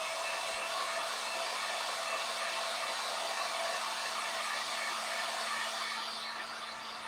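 A hair dryer blows steadily and close on freshly painted Halloween decor made from a fan blade, a continuous whooshing hum that holds level for the whole stretch, with no talking.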